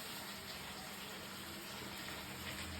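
Water runs steadily from a tap in a home kitchen while hands are washed, a faint, even gushing hiss that lasts without a break.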